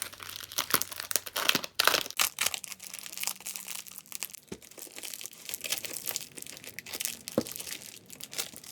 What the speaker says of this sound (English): They have a ton of tape on this, so I have to be careful. But I need this razor to open it.